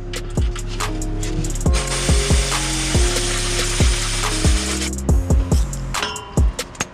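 A ratchet wrench cranks large size 17 bolts on a Miata driveshaft and powerplant frame, giving a loud, close run of rapid clicks with regular heavy knocks as each stroke lands, ending in a few separate clacks.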